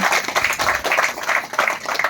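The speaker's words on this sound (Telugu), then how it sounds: "ఆయన గట్టిగా చప్పట్లతో అభినందనలు తెలియజేస్తాం" An audience claps in congratulation, a dense run of overlapping hand claps that holds steady for a couple of seconds without voices.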